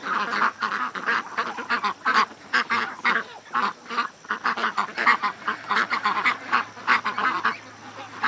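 Ducks gathered close around a person quack and honk in a loud, busy chorus of rapid overlapping calls that rise and fall without pause, very near.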